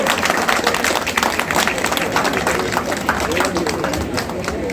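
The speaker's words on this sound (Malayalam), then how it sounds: "ഒരു നല്ല കൈയടി." Applause and crowd noise at a Pongala temple gathering in Delhi, a dense steady roar of many hands clapping that fills the whole stretch, with voices mixed into the din.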